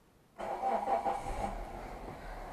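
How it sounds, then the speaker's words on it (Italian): A car engine cranks and catches on a Suaoki K12 300A emergency jump starter, then settles into a steady idle; the start is abrupt and fairly close, with the motor running on alone afterward. "Vedete l'auto si è accesa"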